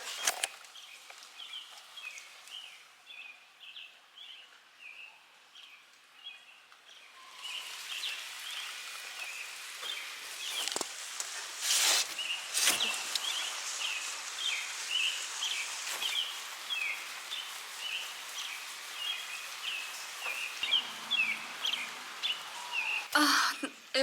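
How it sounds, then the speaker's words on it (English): Birds chirping outdoors at sunset after a rainy day, faint repeated calls layered over steady patter and hiss, with occasional louder sounds. "The birds chirping."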